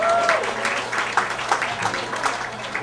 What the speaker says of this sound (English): If we could all give a round of applause to Mike Honda.